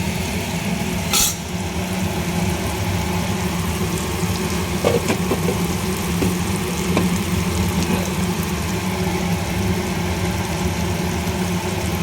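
Pointed gourd sizzles in hot oil with salt and turmeric, a steady, dense frying hiss that carries on evenly throughout, with a few faint clinks and no talking.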